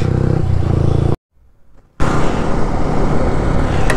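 Loud motorcycle engine droning while riding, cut by a sudden near-silent gap of about a second before the roaring engine and wind noise return.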